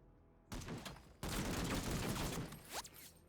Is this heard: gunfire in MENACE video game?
yes